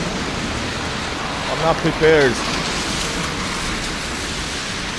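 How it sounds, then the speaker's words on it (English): Heavy rain pouring onto a city street in the Petrogradskaya district of St. Petersburg, a loud continuous hiss filling the scene while someone speaks briefly over it. "Oh, it's raining bad."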